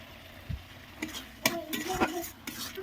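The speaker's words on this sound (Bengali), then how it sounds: "ভালো করে কষতে হবে পেঁয়াজটা।" Onion being stir-fried in a pan for a Bengali rohu fish curry, with a soft sizzle beneath several scraping stirs of a spatula against the metal, close and moderately loud.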